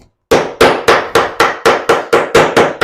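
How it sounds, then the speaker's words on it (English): Ten sharp metallic hammer blows strike a knife blade in a steady, even rhythm, loud and close with a brief ringing after each hit. "Just take the hammer to it."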